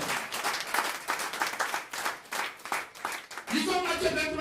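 A church congregation claps in a quick, rhythmic burst of applause, steady and fairly loud, with voices rising underneath toward the end.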